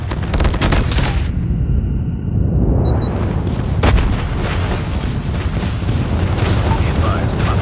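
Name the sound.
enemy airstrike explosions in video game Call of Duty Mobile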